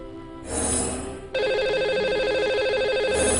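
A telephone rings in repeated electronic bursts as a live caller is connected to a TV show, clear and steady, with a brief hum between rings.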